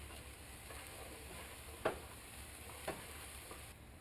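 Ground meat with garlic fries quietly in a pan with a low, steady sizzle, broken by two brief clicks of a utensil against the pan.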